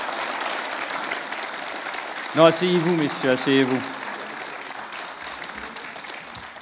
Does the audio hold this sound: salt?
no